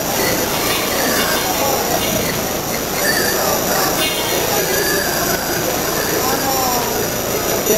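Train at a large terminal station in Italy, a steady broad rumble and hiss of rolling stock and station noise filling the whole stretch, with faint voices mixed in.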